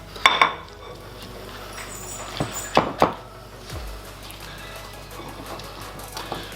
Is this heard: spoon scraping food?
yes